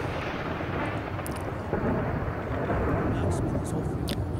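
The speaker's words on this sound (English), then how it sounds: "I can't hear you over the thunder." Heavy, continuous rumbling thunder in the video game Skyrim rolls on as a broad, loud roar, with a brief voice and faint game sounds over it.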